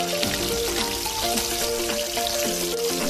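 Fresh fish frying in oil in a pan for a Bengali tel koi dish, a dense close crackle and sizzle with popping spatters, steady throughout with no talk.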